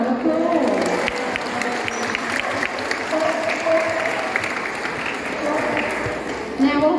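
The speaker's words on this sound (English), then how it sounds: "Give them both a little round of applause." Audience at a safari park sea lion show applauding, a moderate, slightly distant patter of clapping with scattered crowd voices and cheers mixed throughout.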